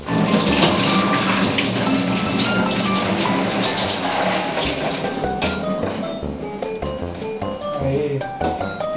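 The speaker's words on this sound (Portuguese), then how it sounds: "Vamos tirar a água aqui." Soaking water being drained off beans in a kitchen, a steady continuous pour and splash of water running into a sink that carries on throughout, fairly loud and close, with no talking.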